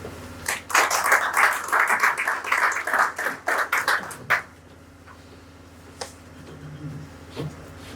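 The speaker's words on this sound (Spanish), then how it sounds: "a quien recibimos con un fuerte aplauso" Audience applause at a restorative justice seminar welcoming a Supreme Court minister, a burst of many hands clapping for about four seconds that then stops abruptly, leaving quiet room tone with a couple of faint stray claps.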